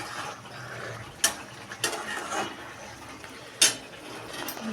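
A metal spoon stirs a pot of fig (dumur) curry with ghee and garam masala simmering in water. A few sharp clinks and scrapes against the pot rise over a steady low bubbling hiss.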